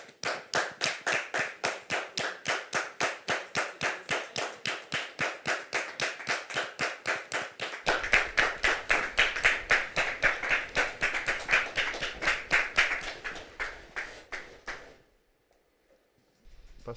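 Rhythmic, steady clapping from an audience welcoming a daughter and her husband onto a church-related TV set, loud and close with even beats, swelling fuller midway before stopping abruptly near the end.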